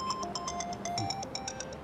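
A telephone ringtone rings in a comedy sketch, a repeating electronic melody of short, evenly spaced tones that carries on steadily at moderate loudness with no talk over it.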